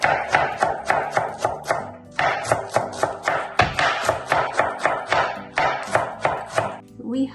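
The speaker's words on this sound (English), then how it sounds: "So let's cut the cabbage." A knife chops cabbage on a cutting board in steady, rapid close thuds, about three per second with a brief pause partway through, loud and clear with no talk.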